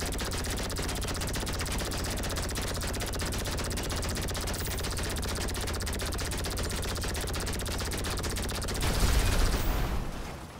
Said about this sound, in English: here you can see I'm gonna try to destroy this vehicle with this gun. Let's see how many bullets it takes.